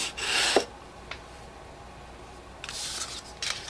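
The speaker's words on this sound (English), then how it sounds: "All you have to do is fold on the line and then burnish our score lines." Score lines on folded cardstock are burnished in brief scraping rubs, one at the start and a couple near the end, close and fairly quiet with no talk.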